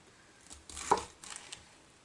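A knife slicing into a head of cabbage, a single crisp crunching cut followed by a softer second pass, close and fairly quiet in an otherwise still kitchen.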